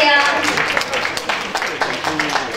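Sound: applause at award ceremony

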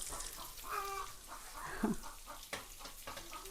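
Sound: chickens clucking

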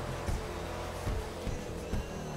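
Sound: car exhaust backfiring in a video game (GTA)

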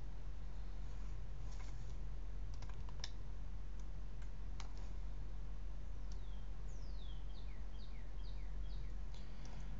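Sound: typing login ID on computer keyboard

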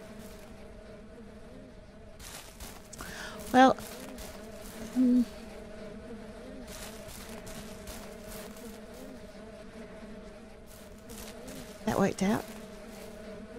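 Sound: bees buzzing in video game Ranch Simulator

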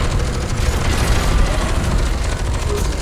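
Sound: rocket explosions in the video game F.E.A.R. 2

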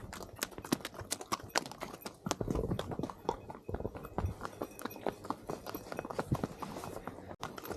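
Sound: horse hooves clip-clopping during a horse ride in Gulmarg

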